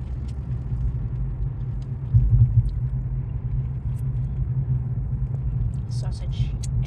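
Steady, loud low rumble of many cars moving along a busy road on a foggy day, with a slightly heavier surge partway through and faint higher clatter near the end.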